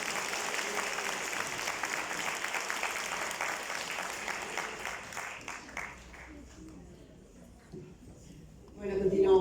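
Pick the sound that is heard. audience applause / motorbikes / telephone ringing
audience applause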